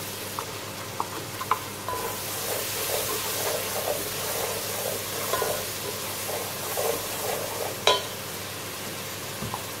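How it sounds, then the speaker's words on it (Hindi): Masala and mutton frying in a pan while being stirred, a continuous close sizzle with a rhythmic run of scraping stir strokes and a sharper clatter near the end, no talk. "तीन से 4 मिनट तक इसे अच्छे से भून लेंगे।"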